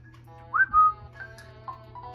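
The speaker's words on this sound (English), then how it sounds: "Trying to learn how to whistle." A character in the game EarthBound whistles a short, high melodic phrase, a bright rising-and-gliding tone over a steady low background hum from the game's music or ambience.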